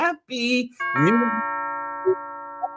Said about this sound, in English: Yes, the doorbell is being rung.